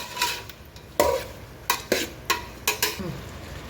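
Pineapple pieces fry in a pan, with a low sizzle under a series of sharp scrapes and clinks as a spatula stirs them about half a dozen times, with no voices.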